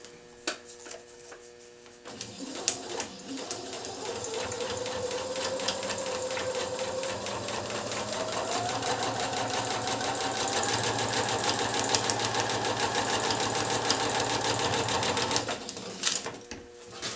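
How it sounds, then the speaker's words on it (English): A sewing machine runs steadily for about thirteen seconds, stitching quilt pieces along a marked line. The rapid, even whirring starts and stops cleanly with a few soft clicks on either side and no talking. "you're going to sew down this line again"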